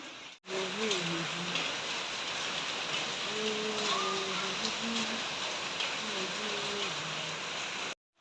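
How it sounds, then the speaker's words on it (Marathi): Steady, dense rain pours outside a home, a constant close hiss of drops on surfaces that fills the whole stretch, with a voice speaking over it at intervals. "पाऊस पडत आहे आणि बघा आवाज येतच आहे पावसाचा"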